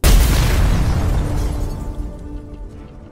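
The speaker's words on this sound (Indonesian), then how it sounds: "langsung meledakkan pabrik tersebut" A factory blows up in a film, with a sudden, very loud deep boom that hits at once and then rolls away in a long rumbling decay with no other sound over it.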